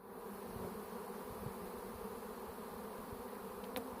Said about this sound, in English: I'm going to shake the bees, and hopefully the bees will fall right on the box or around the tarp.